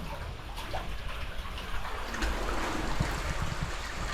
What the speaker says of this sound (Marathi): या सात झऱ्यांचं पाणी इथे येतं